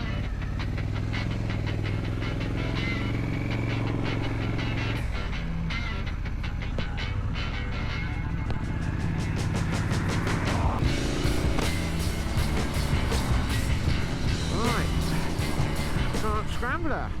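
A Triumph Scrambler 900 motorcycle pulls away from a dealership, its engine rumbling steadily with rising and falling revs and wind noise, loud and close throughout.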